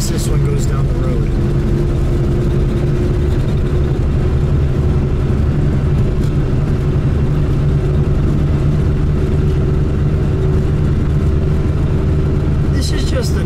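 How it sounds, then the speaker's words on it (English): A 1955 Studebaker Commander Regal four-door drives down the road, its engine and road rumble a steady, loud low drone heard from inside the car for the whole stretch, with a voice talking over it. "Look how nice this one goes down the road."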